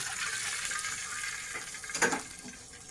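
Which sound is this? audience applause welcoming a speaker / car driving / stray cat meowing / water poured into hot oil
water poured into hot oil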